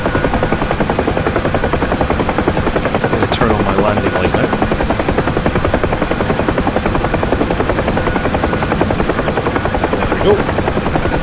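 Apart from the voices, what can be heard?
UH-1 Huey helicopter engine and rotor in DCS video game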